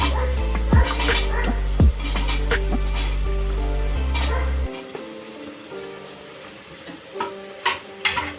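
Chopped vegetables hit a pan of frying tomatoes for a mochaka kuruma, bringing close sizzling, a spoon scraping and clanking against the metal, and a low stove hum that drops away partway through.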